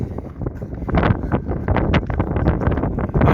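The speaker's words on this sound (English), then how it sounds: "Don't know if you can hear me with the wind" Strong gusting wind buffets the microphone atop the Cliffs of Moher in Ireland, a loud, continuous rumbling roar with uneven surges and no voices over it.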